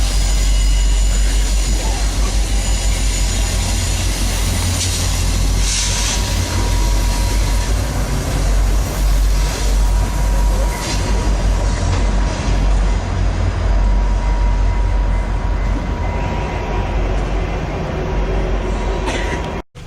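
Interior rumble of the California Zephyr push-pull passenger train running between Sacramento and Salt Lake City, a loud, continuous low roar with steady rail noise and occasional clatter throughout.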